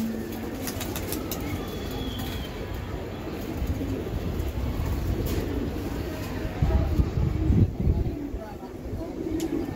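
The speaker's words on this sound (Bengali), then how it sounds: "এক জোড়া বদ কালার কবুতর" A pair of off-colour pigeons, one Indian and one Pakistani, give low repeated coos close by over a steady hiss. A brief louder burst of movement or fluttering comes near the end.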